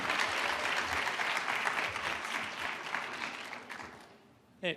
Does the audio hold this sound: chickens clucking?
no